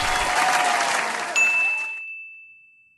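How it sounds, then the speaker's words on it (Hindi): An audience claps for a food challenge winner at a live event, a brief burst of applause that cuts off abruptly. A bright, sustained electronic ding then rings out alone and slowly decays. "एक बार ज़ोरदार तालियां"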